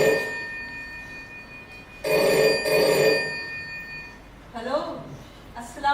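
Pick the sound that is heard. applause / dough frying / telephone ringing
telephone ringing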